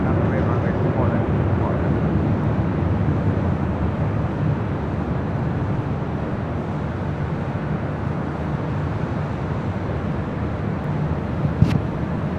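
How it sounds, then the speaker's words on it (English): A Singapore Airlines Boeing 777-300ER at LAX on runway 24 left, departing for Tokyo Narita, gives a steady, broad jet roar that holds loud and constant throughout, with a brief sharper click near the end. "Flight heading back to Tokyo Narita in this 777-300ER with Singapore Airlines."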